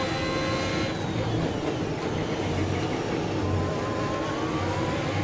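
A Formula 1 car's engine drones steadily around the Imola circuit in the F1 2021 racing game, a continuous mid-pitched whine with gear-driven tonal sweeps, loud and unbroken throughout.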